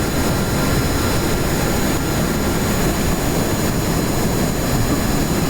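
A rocket engine boost in Kerbal Space Program roars as a loud, unbroken wall of thrust noise, steady and powerful throughout with no talk over it.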